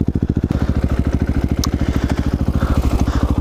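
A Husqvarna 701 motorcycle with an Akrapovič exhaust and no dB killer idles loudly up close, its single-cylinder engine thumping in a fast, rapid, steady throb.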